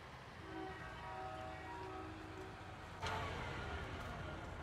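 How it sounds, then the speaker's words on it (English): In Farming Simulator 19, a train passes at a distance with a sustained horn blast and rolling rail rumble, followed by a louder swell of noise near the end. "And y'all can probably hear that train."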